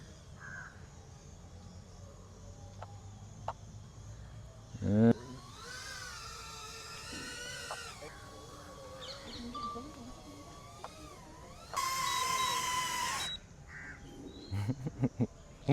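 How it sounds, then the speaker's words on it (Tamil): Crows cawing close around a small Neo 2 camera drone in flight during its first outing, bursts of harsh calls rising over the steady whir of the drone, with people talking nearby. "காகம் எல்லாம் வந்து ட்ரோனுக்கு பக்கத்தில் வருது."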